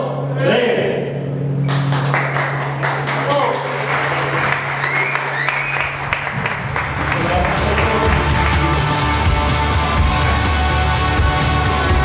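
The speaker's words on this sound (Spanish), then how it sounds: "Gracias, un aplauso." An audience applauds at a photograph unveiling for a Zacatecas athlete, a dense patter of clapping with scattered thumps that swells and continues to the end, with a voice speaking over the start.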